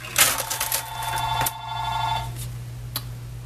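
A telephone rings with a couple of bright electronic bursts over a low steady room hum, fairly faint and without talk.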